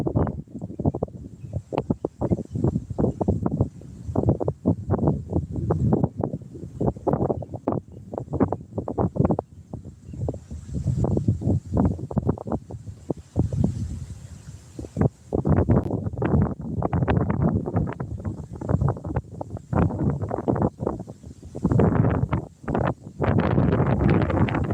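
Strong gusts of wind buffet a microphone outdoors on a catfishing trip, producing loud, continuous low rumbling and thumping that swells and drops throughout, with no voices.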